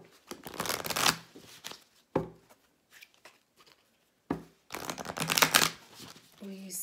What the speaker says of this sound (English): let's go ahead and pull some cards on that energy